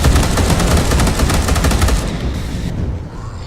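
Automated turrets firing at players in Space Hulk: Deathwing, a continuous loud stream of rapid gunfire that runs unbroken before thinning out at the end.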